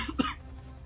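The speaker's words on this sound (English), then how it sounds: "I'm sorry if I'm coughing a lot, but I'm sick." A single cough from someone who is sick, fairly close and brief, standing alone against a quiet background.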